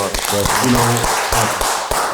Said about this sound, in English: I want to give you guys a hand clap